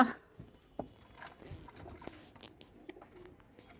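Pigeons cooing softly at a pigeon loft, with faint scattered coos, light pattering and flutter-like rustles, fairly quiet and distant, with no talking.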